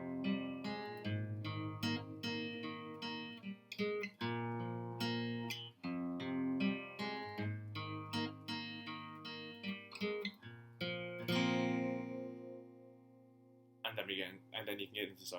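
Electric guitar playing a song's riff with a distorted, effects-laden tone, a steady run of picked notes and chords that rings out near the end before a brief new phrase.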